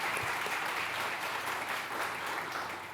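An audience claps and cheers at a comedy event, a dense, steady burst of applause close by and alone.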